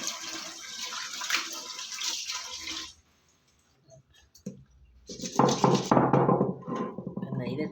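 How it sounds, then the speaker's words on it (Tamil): Fish pieces washed by sprinkling water over them to loosen the scales: close splashing and trickling, a short quiet gap with a light thunk, then heavier splashing resumes. "தண்ணி தெளித்து கழுவணும் அப்படின்னா ஈஸியாக நம்மளுக்கு அந்த செதில்கள்லாம் ரிமூவ் ஆகிடும்"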